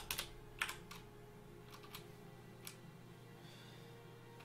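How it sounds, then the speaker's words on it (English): A computer keyboard being typed on in short, scattered bursts of sharp keystroke clicks, close but fairly quiet, separated by pauses over a faint background hum. "I have an amazing keyboard"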